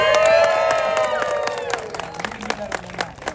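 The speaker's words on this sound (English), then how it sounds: "Clap for this kid, guys." Crowd at a street performance show in Boulder, Colorado claps and cheers for a young boy, with loud whoops and shouts at first that fade into scattered clapping.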